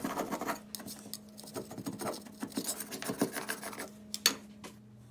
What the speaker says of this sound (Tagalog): I use a metal scraper to scrape the corner.